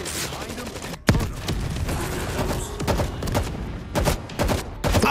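Automated turrets in the zombie shooter World War Z Aftermath rattle out rapid, sustained gunfire, with dense bursts and sharp reports stacking up close and loud while shouting voices cut through the din.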